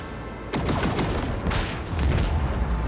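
Torpedoes blow up in the video game Warhammer 40000: Rogue Trader. A sudden loud blast is followed by continuous rumbling explosions and crackling that swell again near the end.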